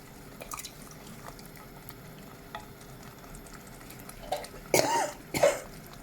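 A woman coughs a few times near the end, brief sharp bursts close by over the quiet bubbling of a pan of sauce with chopped tomatoes cooking on the stove.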